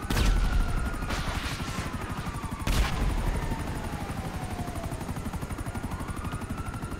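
A helicopter in a video game roars loud and close with a pulsing rotor chop, while sharp bursts of gunfire cut in near the start and again midway.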